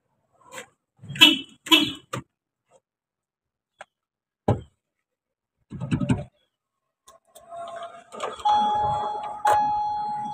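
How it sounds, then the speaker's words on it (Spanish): A car is started with a freshly duplicated key: a few sharp clicks and rattles of the key in the ignition switch with quiet gaps between them, then the engine catches and runs near and steady. "ahí entro al switch ahí ya dio ignición"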